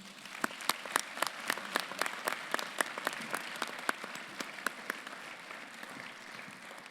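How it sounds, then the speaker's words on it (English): Audience applause fills a university Founders Day convocation ceremony, a dense, steady patter of many hands clapping at once, moderately distant and unbroken, with no talk over it. "Once again, a round of applause for our visionary founders."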